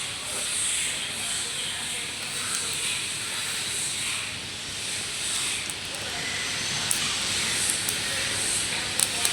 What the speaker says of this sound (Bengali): কালো জিরে দিয়ে দিলাম তেলের মধ্যে।